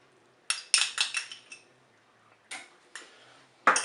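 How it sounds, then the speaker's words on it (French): Spoon stirring spaghetti with tomato paste in a Cookeo multicooker pot, quick bursts of scraping and clinking against the metal bowl in uneven strokes, close and fairly quiet with pauses between. "On mélange également."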